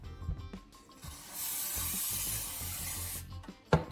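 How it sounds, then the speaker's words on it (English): WD-40 aerosol sprayed onto a cloth before wiping down a cordless drill battery pack: one steady, fairly loud hiss of about two seconds, with faint handling clicks before and after. "Spray a small amount of WD-40 onto a cloth."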